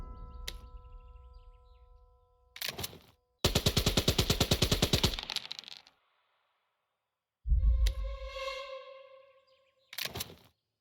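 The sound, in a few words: heavy machine gun firing in a video game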